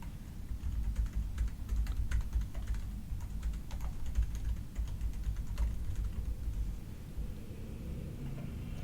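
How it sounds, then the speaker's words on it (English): Typing on a computer keyboard, a steady run of light key clicks over a low continuous rumble, with no talking. "I'm just going to go in here and type in"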